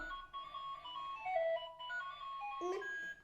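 A battery-powered toy car plays a tinny electronic jingle and horn tones, thin and fairly quiet with a brief siren-like sweep near the end.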